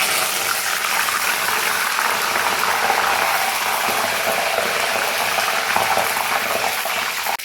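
Coriander leaves fry in hot oil for a panipuri-flavoured snack, giving a steady, loud, broadband sizzle and hiss that holds evenly throughout with no voices.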